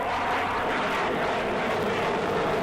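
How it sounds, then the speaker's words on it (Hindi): Indian Air Force jets, including a Rafale, flying in a display: a dense, continuous roar that stays loud and steady throughout, with no voices over it. "ये जो विमान हैं, इनकी गरज की आवाज भी पूरे हिंदुस्तान में गूंज रही होगी"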